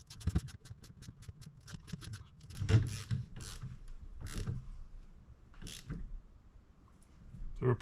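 A thread tap bites into a steering box being tapped for hydraulic assist, making quiet, close, irregular clicks and creaking scrapes as the tool is turned.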